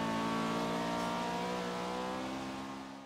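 A Honda Civic engine in Forza Horizon 3 roars steadily as it revs, its loud, sustained tone tapering slightly toward the end, with no talking.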